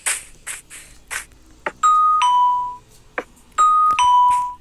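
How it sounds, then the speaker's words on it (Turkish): A two-tone doorbell chime rings twice, each ding-dong clear and close, with a few short clicks and bursts of noise before and between. "Evet biz zil basalım ya canım."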